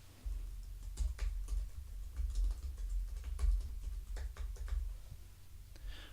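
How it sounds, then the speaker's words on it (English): Keys on a computer keyboard clatter in quick irregular bursts of soft clicks, steady and close, as sample text is typed into a font tool, with no speech. "Let's look at all families and type some sample text."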